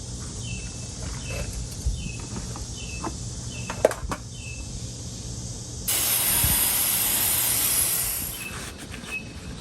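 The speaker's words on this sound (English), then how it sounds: "I'm just going to use this electronic cleaner." Electronic cleaner sprays into a dirty Schauer Model B4612 battery charger. A few faint clicks come first, then a loud, close, steady hiss runs for about three seconds before fading.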